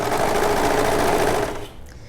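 A serger overlock machine runs steadily as it stitches and trims a fabric edge by 1/8 inch, a close, loud rapid whir that slows and fades near the end.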